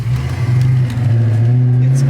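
Ford Mustang Foxbody with a hydraulic clutch setup driving down the road, a loud close engine drone holding a steady low tone as it pulls along.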